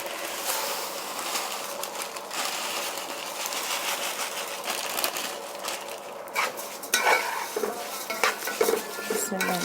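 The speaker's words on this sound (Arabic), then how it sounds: "هنحمر بقى الشعريه" Vermicelli fries in a pan of ghee and oil while a utensil stirs and scrapes it, giving a close, continuous sizzle broken by metallic clinks and scraping sounds.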